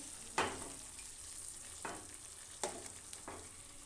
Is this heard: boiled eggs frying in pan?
yes